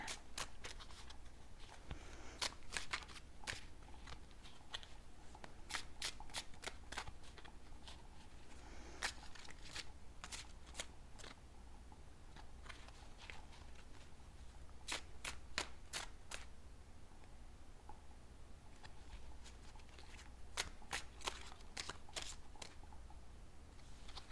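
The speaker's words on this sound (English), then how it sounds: "I'm going to get a few more cards." Tarot cards being shuffled and handled at a low level, with scattered sharp snaps and flicks of the cards over a quiet, steady background hiss.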